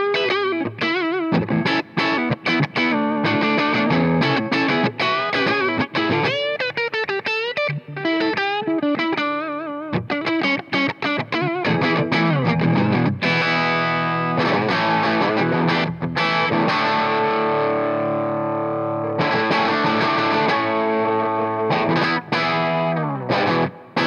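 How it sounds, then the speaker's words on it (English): An electric guitar is played through a Marshall Slash SL5 combo with the clean channel turned all the way up so it breaks up, with sustained chords and melodic runs that ring out loudly and continuously with reverb. "And driving the volume of the clean channel all the way up, it starts to break up like a,"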